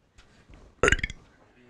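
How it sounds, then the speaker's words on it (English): A loud, close burp of about half a second bursts out after a short stretch of faint background murmur, then trails off into quiet. "Can you burp your ABCs?"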